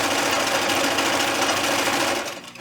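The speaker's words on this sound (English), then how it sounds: "I'm putting my sewing machine on a zigzag stitch" A sewing machine hums in a rapid, continuous run as it sews a zigzag stitch along the edge of fleece fabric, loud and close with no voices.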